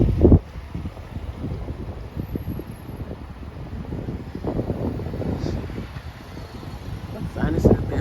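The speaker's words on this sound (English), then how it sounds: "I guess because it's so windy." Strong gusting wind during a tornado warning buffets the microphone in low, rumbling bursts that swell and fade unevenly over several seconds.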